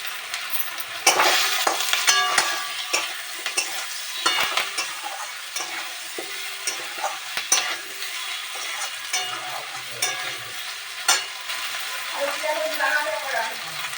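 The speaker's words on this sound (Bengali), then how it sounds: "আলু ভাজা হয়ে গেছে আর একটু কারি পাতাও দিয়ে দিচ্ছি এর ভিতরে" Potatoes and curry leaves fry in a pan for a cabbage curry. They hiss and sizzle while a spatula scrapes and knocks in busy, uneven strokes, and a voice speaks faintly at times.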